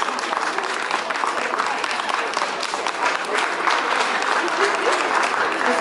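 An audience at a civic gathering applauds with dense, sustained clapping that stays even and full throughout, filling the room with no pauses.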